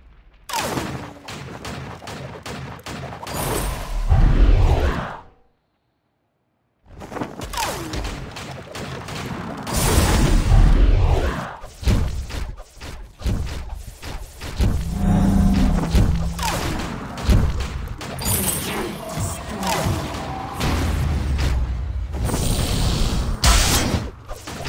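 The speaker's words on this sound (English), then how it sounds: "I'll just shoot all three." Rapid volleys of gunshots and heavy thumping impacts in a Vainglory 5v5 match, loud and dense with a brief silent gap early on, then continuous shooting to the end.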